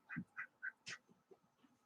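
A duck quacks in a quick run of four loud, close calls, followed by a few softer, trailing quacks.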